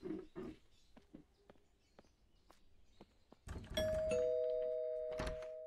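A doorbell rings out clearly after a few scattered soft knocks and thumps, leaving two sustained electronic chime tones that hang and slowly fade, followed by one more short burst.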